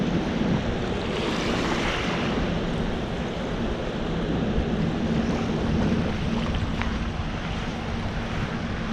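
Surf washes in and out on the shore at low tide at Dead Horse Bay, a steady, close wash of water with wind buffeting the microphone throughout.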